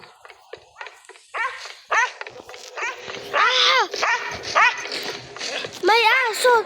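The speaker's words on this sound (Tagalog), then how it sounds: "May aso! Kinakagad ako!" Robot dog in a video game barking and yipping in short rising electronic-sounding bursts, several in quick succession, loud and close alongside a player's excited talk.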